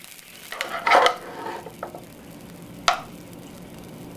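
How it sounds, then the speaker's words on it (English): Pork and vegetables are stir-fried in a pan with chopped garlic, giving a soft sizzle. A few scraping stirs stand out, including a louder scrape near the middle, and there is no talk. "We're going to continue to stir fry this for, about 3 or 4 minutes until our vegetables begin to soften."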